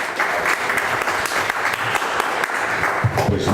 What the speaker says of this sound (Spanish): le pido un fuerte y caluroso aplauso